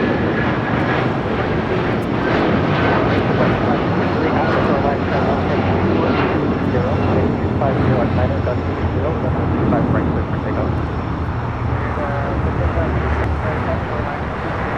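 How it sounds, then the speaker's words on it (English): A United Boeing 757-200 in Star Alliance livery takes off from LAX for Newark, its broad jet engine roar filling the air continuously at a loud, steady level with some faint background noise. "1331 taking off to Newark on a 757-200 in the Star Alliance livery"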